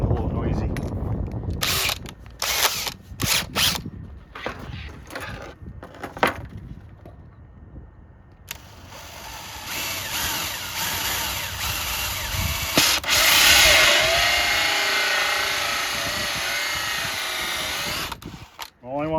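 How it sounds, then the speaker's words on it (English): A power drill fitted with a 2-inch hole saw cuts into wood, a sustained grinding whir after some handling clatter and a brief spoken bit, with wind noise in the background. "We're going to use this 2-inch hole saw"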